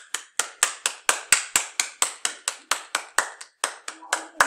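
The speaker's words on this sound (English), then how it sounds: "I'm clapping, by the way" Rhythmic hand clapping in a classroom during an anatomy lesson: about twenty sharp, close claps in a steady, brisk beat, loud and dry, with a slight pause near the end.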